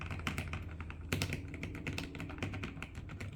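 Rapid typing on a mechanical computer keyboard, a dense run of clacky, slightly cheap-sounding keystrokes heard close, with a few sharper louder hits and no talking.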